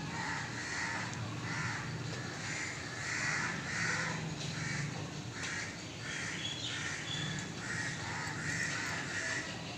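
Crows caw repeatedly in harsh, overlapping calls against steady outdoor background noise, several birds calling on and off throughout.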